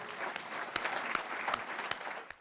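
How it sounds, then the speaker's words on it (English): A short burst of audience applause in a lecture hall at a presidential-studies talk, steady crisp clapping with a few sharper individual claps standing out, heard at moderate distance with no speech. "Let's have a round of applause."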